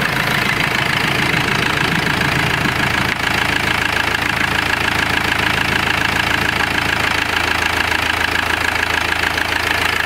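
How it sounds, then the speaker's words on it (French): A Citroën C5 car engine idles steadily after an oil change, a continuous close mechanical hum with an even running tone throughout and no talking. "on peut entendre, il n'y a pas de clic, pas de bruit métallique, donc le moteur est toujours bien"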